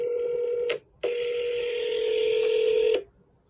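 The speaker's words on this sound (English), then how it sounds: "Let's dial." Telephone keypad tones as a number is dialed, a loud steady tone, a short gap, then a longer sustained tone lasting about two seconds before cutting off, with no talking.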